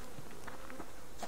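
Bees buzzing in the survival video game Subsistence, a faint, steady insect drone that hums continuously with no talk over it.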